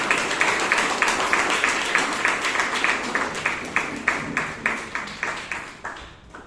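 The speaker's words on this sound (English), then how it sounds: "Everybody give a big round of applause." Audience applause at a Toastmasters club meeting in Bangalore: a steady burst of many hands clapping at close range that fades out toward the end, with no talk over it.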